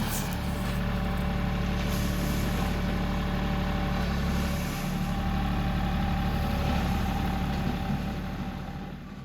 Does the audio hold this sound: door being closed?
no